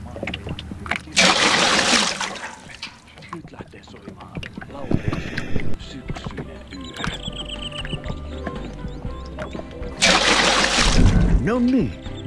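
Water pours and splashes from a bucket into a bath in the Finnish sauna game Sauna 2000, with two loud, noisy splashing bursts near the start and end and quieter clunks and background game sounds between them.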